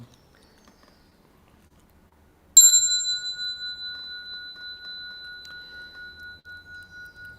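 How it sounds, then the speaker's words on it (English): After a quiet start, a single bright bell strike rings out and decays slowly, its clear tone lingering with a gentle pulsing shimmer. "This is a magnificent handbell today."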